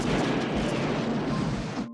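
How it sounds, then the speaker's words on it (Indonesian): A bomb blast in a Steven Seagal action film, heard as a loud, dense roar with rumbling low end and debris-like crackle that sustains for nearly two seconds before cutting off abruptly. "sebuah bom meledak hingga menewaskan Pastor Gennaro."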